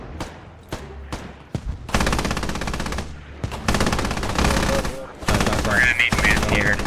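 Sustained machine gun fire in a video game battle against many players, rapid dense bursts running loud and near through most of the stretch with brief gaps, plus other game effects layered in.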